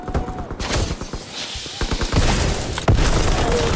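Double-barrel shotgun gunfire in Call of Duty WW2 multiplayer, heard as a dense, loud volley of overlapping gunshots and booms from a busy match, sustained throughout with heavier blasts toward the end.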